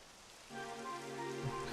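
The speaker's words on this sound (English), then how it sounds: "It would have to go and start raining, wouldn't it?" Rain begins falling in the video game Dragon Quest XI, a soft steady hiss of drops that swells in partway through and continues faintly and evenly.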